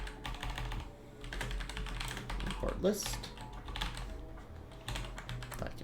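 Rapid clicking of keys on a computer keyboard while writing code, steady bursts of close typing with someone talking over it.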